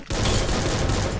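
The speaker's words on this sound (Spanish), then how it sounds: "Hay otro volando, le disparo." A quick burst of rapid Free Fire video game gunfire crackles loudly for about a second, dense and sharp.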